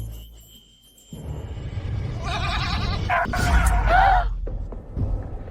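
Sheep blocking a road bleat in a few short wavering calls over a low rumbling background, fairly close and loud.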